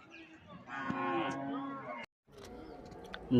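Cattle at the Melur cattle market give one long, loud, drawn-out moo near the start. A brief silence follows, then background market noise returns.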